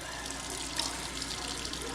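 Hot water runs steadily from a tap into a sink, a continuous close splashing hiss with no talking over it.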